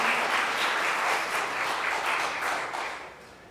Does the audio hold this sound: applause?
yes